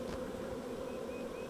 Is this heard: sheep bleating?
no